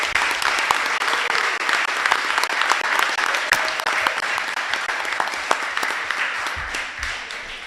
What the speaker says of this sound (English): Please, a round of applause for Jennifer Fox